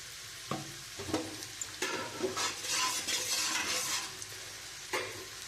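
Oil with ghee heating in a pan for mixed rice, a soft sizzle mixed with several spatula scrapes and light metallic clinks, fairly quiet and without speech.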